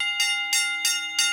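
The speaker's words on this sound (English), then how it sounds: "until the bell rings to end round 2" Boxing ring bell in an anime bout, four sharp metallic clangs at a steady rhythm, loud and close with a sustained ringing tone between strikes, marking the end of round two.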